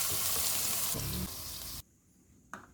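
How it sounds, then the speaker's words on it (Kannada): Paneer frying in ghee gives a loud, steady sizzle that drops off sharply partway through, leaving a quiet stretch with one brief clatter near the end. "ಪನ್ನೀರ್ನ ತುಪ್ಪದಲ್ಲಿ ಫ್ರೈ ಮಾಡ್ಕೊಳ್ಳೋಣ"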